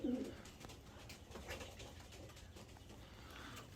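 Pigeons in a loft give soft, faint cooing calls against a quiet, slightly noisy indoor background, with a few brief low coos scattered through.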